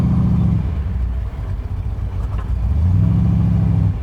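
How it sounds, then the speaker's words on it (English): A 1996 AC Cobra MKIV engine runs loud and strong with a deep, steady low rumble, revving up briefly at the start and again near the end, heard from inside the open car. "The engine sounds very loud and you know, strong."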